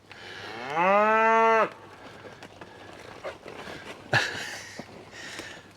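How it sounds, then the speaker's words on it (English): A cow in a barn lets out one loud, close, rising moo lasting nearly a second. Quieter shuffling, a snort-like burst and barn noises follow. "That's too much mooing, making you cough like that."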